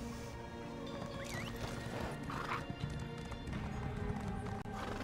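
Horse hooves clip-clopping with a whinny amid a busy, dense soundscape in The Elder Scrolls Online, steady and moderately loud throughout.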